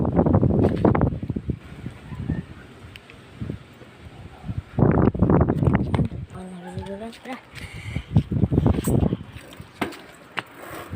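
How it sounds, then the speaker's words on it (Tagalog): Strong wind gusts roar and buffet the microphone during rain, rising and falling with bursts of rustling noise, while people talk intermittently. "Ang lakas ng hangin."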